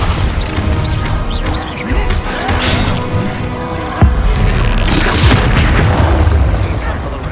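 Magical combat in the video game Hogwarts Legacy, including a Bombarda spell explosion during a troll fight: a dense, loud stream of booms and crashes, with one sharp blast near the middle over continuous effects and music, and voices shouting.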